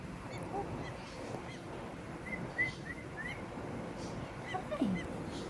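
A pet bird gives a few short, faint honk-like calls and squeaks against a low indoor background.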